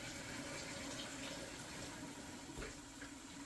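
Water is poured steadily into a pan of thickening pepper steak gravy, a continuous faint splashing hiss that runs alone throughout, with no talking.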